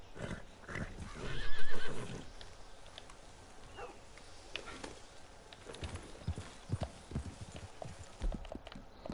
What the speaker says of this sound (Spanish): Maldito caballo tonto.